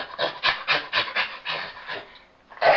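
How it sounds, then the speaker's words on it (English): A chimpanzee gives a rhythmic series of breathy panting hoots, about ten quick pulses in a steady beat, close and fairly loud, a pause, then a louder burst at the end. "It is a chimpanzee."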